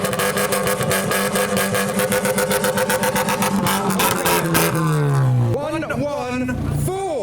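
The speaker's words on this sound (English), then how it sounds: "Next up, we've got this Skoda with some unique exhaust." A Skoda car with an unusual aftermarket exhaust revs hard at a rev battle, with rapid pulsing bursts, a rising then falling engine note and a crackling finish. Voices talk over it.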